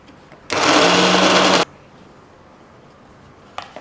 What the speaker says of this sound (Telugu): సో మిక్సీలో గ్రైండ్ చేద్దాం.